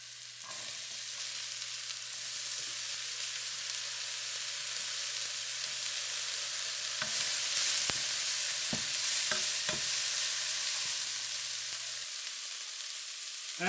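Green peas sizzle steadily in a frying pan with shrimp for ginger shrimp fried rice, a loud continuous hiss broken by a few sharp clinks and scrapes of stirring near the end, with no talking.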